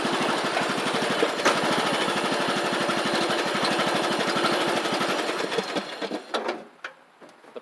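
The small engine of a Troy Bilt Pony riding mower, revived after sitting for years, runs with a steady, close, rapid chugging putter. It fades and sputters away over the last couple of seconds.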